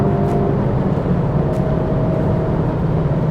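Honda Type R car accelerating hard through a corner, its engine a steady loud drone with rising tonal whine over rumbling road and wind noise, heard from inside the cabin.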